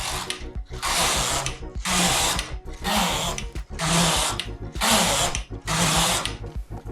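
Knitting machine working plain white rows, a loud mechanical whirring rush repeated in six back-and-forth passes of about a second each, separated by brief pauses as the carriage reverses.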